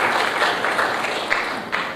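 Audience applause at the Air Cargo India 2016 conference: a steady, dense patter of many hands clapping for about two seconds, moderately loud, with a few sharper claps standing out.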